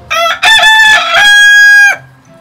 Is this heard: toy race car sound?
no